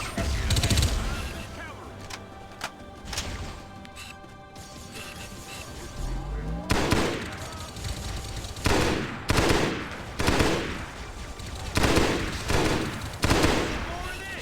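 Rapid bursts of SMG fire in Halo SPV3, loud, close and percussive, coming in repeated clusters with short gaps, along with crashes and combat noise.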